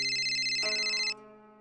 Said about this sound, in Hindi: मही मेहता का फोन।